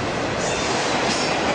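A passing train roars by close and steady, a dense wash of rail and wheel noise with no pauses, somewhere outside Albany, New York.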